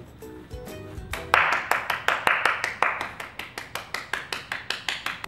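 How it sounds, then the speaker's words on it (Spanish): Hand claps ring out in a steady, fairly quick series of about twenty sharp slaps after a brief soft lead-in, close and evenly spaced with no talk over them. "Te paras y aplaudes."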